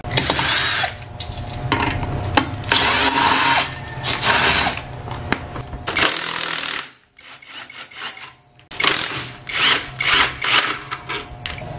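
A power tool works loose the exhaust bolts on a scooter, sounding as loud, close mechanical bursts that stop briefly near the middle and then start again in a final run.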